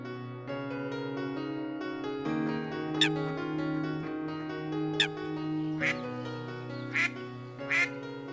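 Ducks quack repeatedly near water, sharp honking calls rising over a musical backing with a steady tonal drone.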